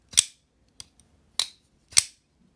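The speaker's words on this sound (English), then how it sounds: "When you deploy the knife, it's not loud." Three crisp metallic clicks with a couple of softer ticks between them, close and isolated against silence, as the blade of a Reate Mini Horizon D pocketknife snaps open and shut.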